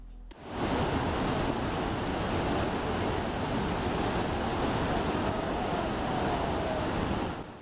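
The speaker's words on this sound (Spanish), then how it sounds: "Un estrechamiento tan repentino aumenta rápidamente la velocidad del agua a medida que cae por la cascada." Yellow River water roars down the narrow Hukou waterfall in a dense, steady rush that begins abruptly and holds at a constant loud level, with no voices.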